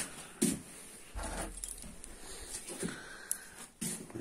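A bunch of keys jangles near an Izh motorcycle before a start attempt, with several sharp metallic rattling bursts spread through a quiet stretch.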